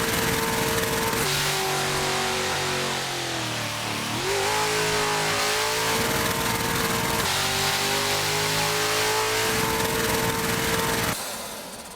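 A Ford Mustang engine in the Assetto Corsa racing game roars loud and continuous, with pitch rising and falling through gear changes before the engine blows and the sound drops away at the end.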